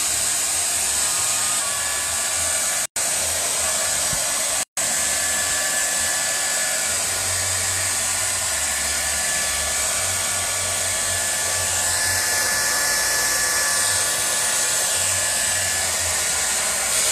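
A hair dryer blows steadily on fresh green paint, a loud continuous whoosh broken by two very brief cutoffs early on, then running on unbroken.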